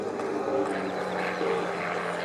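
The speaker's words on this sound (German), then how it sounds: "Das Flugzeug selbst ist aber in der Lage, mit Triebwerken bis 375 PS auszukommen und damit sich diesem wunderschönen aerodynamischen Kunstflug zu widmen." A Starduster biplane with an engine of up to 375 horsepower drones steadily during an aerobatic display at an air show, a constant mid-distance propeller roar heard without talk.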